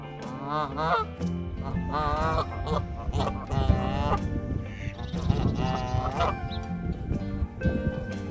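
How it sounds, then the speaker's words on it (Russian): A flock of geese honks loudly and almost continuously at a lake in Germany, with many overlapping nasal calls close by and no one speaking. "Никогда не слышала, как разговаривают гуси."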